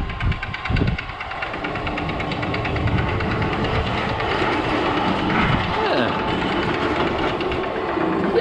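A steady rumbling, clattering rush of a newly repainted roller coaster train running along its track at Lightwater Valley, loud and continuous throughout, with brief noise bursts near the start.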